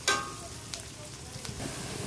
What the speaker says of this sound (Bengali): এই তেলে আমি আলুগুলো ভেজে নেব